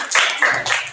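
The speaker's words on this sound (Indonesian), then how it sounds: "Oke, tepuk tangan dulu buat kelompok 1" Classroom applause for a student group, a short burst of several hands clapping quickly and unevenly, close and moderately loud.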